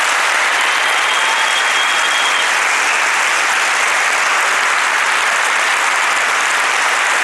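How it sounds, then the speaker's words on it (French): Sustained applause from a comedy show audience, a dense, steady wash of many hands clapping at once, loud and continuous from start to finish with no voices standing out. "Je voudrais que vous applaudissiez Tsek, s'il vous plaît."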